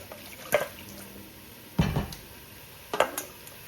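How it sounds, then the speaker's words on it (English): Hot water poured over seasoned goat meat for Jamaican curried goat makes three short splashing pours, each a quick burst with a brief trailing drip, set against a quiet kitchen. "We're gonna get water, hot water, and we're gonna pour it on it."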